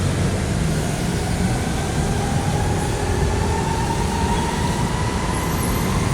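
Loud, continuous low rumble of a Manila MRT train rolling past close by at Guadalupe Station, with a steady faint whine running through it.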